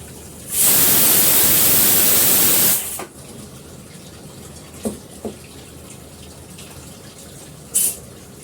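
Starch water drains off freshly cooked rice in a loud, hissing two-second rush. It cuts off abruptly into a quiet room, followed by a few soft knocks and clinks.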